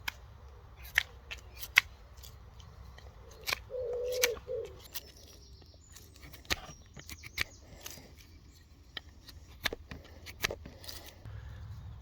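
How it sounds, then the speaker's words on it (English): A knife shaves and smooths a stick being carved into an owl spoon, making sharp, quiet scraping snicks at irregular intervals, close up in a quiet outdoor setting. "I'm going to shade that down using my knife"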